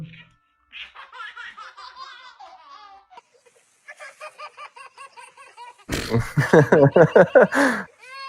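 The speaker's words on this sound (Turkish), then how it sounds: "bu ses ondan çıkıyormuş köpekten" A dog producing a baby-like laughing sound, a series of short giggling bursts that grow louder and more rapid toward the end, close and clear with quiet gaps between phrases.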